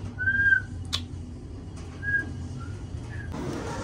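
A few short whistled notes from a person, thin and tonal, scattered over a quiet background with a faint rumble and a brief noise at the end.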